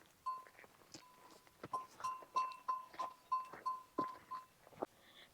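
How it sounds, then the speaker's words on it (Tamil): Young goat kid bleating repeatedly in a rural Hamar village setting in Ethiopia, a series of short nasal cries in quick rhythm, fairly close, with faint background rustle. "ஆட்டுக்குட்டி."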